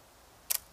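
A large format camera's shutter fires without film loaded, giving one crisp mechanical snap with a quick double click, close and isolated against quiet room tone.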